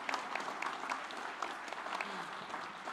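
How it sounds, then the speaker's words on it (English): Applause from the audience at a benefit concert welcoming Rabbi Yitz, a steady patter of many hands clapping at moderate distance, fairly soft and even throughout. "let's give him a round of applause."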